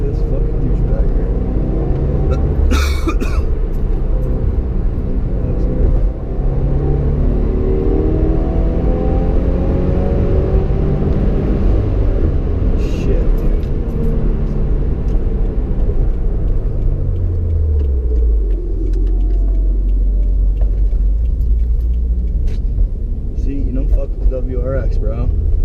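A 2015 Subaru WRX engine rumbles and surges through gears during a night drive, loud and continuous with rising and falling pitch, while someone talks over it.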